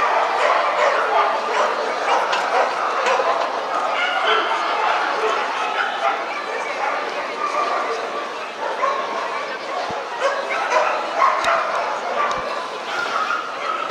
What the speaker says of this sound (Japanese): なんでずっと吠えてんだよ。